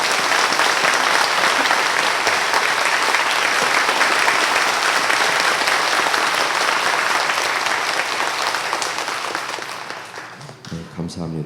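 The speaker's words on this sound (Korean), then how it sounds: "목사님께 우리가 감사의 마음을 담아서 뜨거운 박수를 보내주시면 좋겠습니다." A church congregation during Sunday worship gives a long, loud, sustained round of applause for the pastor, steady throughout and tapering slightly near the end.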